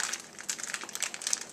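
Individual-pack plastic packaging of Foster Farms chicken crinkles close up, a quick run of sharp, irregular rustles and crackles being handled and opened.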